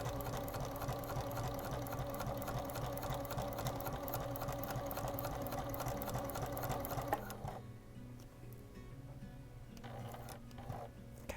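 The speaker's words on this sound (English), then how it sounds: "Stitch right over the top of the tape" A sewing machine stitches clear vinyl and tape for a stadium bag, a steady fast loud whir for about seven seconds before stopping abruptly, followed by quieter handling sounds.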